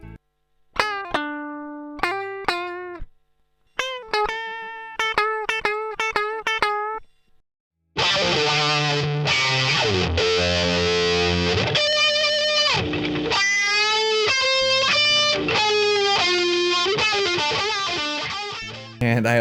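Electric guitar played through a Fender Hot Rod amp's 10-inch speaker with no reverb: a few clean, separate plucked notes first, then a brief pause before thick, sustained distorted lead lines and chords, loud and close.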